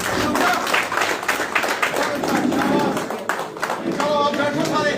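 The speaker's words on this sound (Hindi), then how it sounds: "थैंक यू तालियों से स्वागत।" An audience at a BJP joining event in Jammu gives dense, sustained applause with no gaps, while voices keep talking over the clapping.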